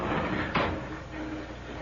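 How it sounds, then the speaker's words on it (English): A door shut in an old radio drama, one short dull thud near the middle over a faint steady background hiss. "Let me shut the door."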